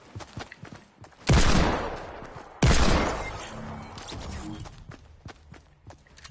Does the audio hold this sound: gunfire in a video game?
yes